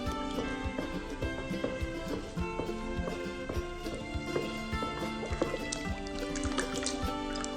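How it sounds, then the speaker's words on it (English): Sugar is stirred into water in a container for water kefir, giving close, continuous liquid swishing with irregular clinks and drips, no talk. "Stir it until it's dissolved."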